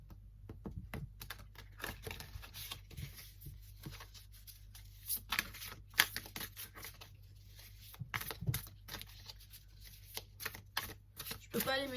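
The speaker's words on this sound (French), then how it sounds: "D'abord mélanger les cartes" Stiff oracle cards are shuffled by hand in a quiet room, producing scattered dry slaps, riffles and taps in uneven bursts, with soft talking at times.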